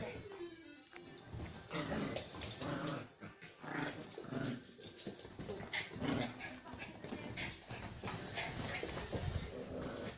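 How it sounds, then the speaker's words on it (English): Several dogs wrestle in play, with steady growling, snarling and scuffling close by throughout, under occasional human talk. "Back to dog wrestling."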